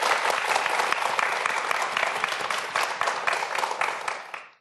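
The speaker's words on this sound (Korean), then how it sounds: "우리 이명규 학생에게 다시 한번 박수 보내주시기 바랍니다" Studio audience at a televised student quiz show claps for a contestant, brisk even applause that runs on and then tapers off at the end.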